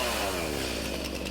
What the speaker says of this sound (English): This shows just how handy a chainsaw can be.